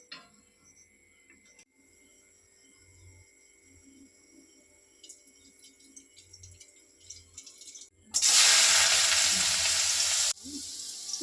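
Garlic and onion go into a hot pan for pasta: a quiet kitchen background gives way to a sudden loud burst of sizzling frying that holds for a couple of seconds, then drops to a lower crackle.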